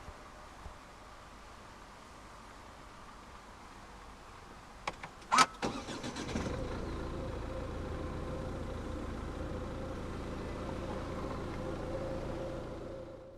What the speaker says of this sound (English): put your foot on the clutch, insert the key fob into the slot right here, and press the start button right above the key slot